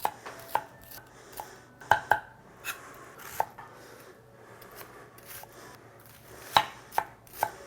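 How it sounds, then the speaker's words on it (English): A knife finely chopping onion on a cutting board, with irregular crisp taps, some clustered in quick pairs, close and fairly quiet against a soft background hiss. "We end up with a nicely fine chopped onion there."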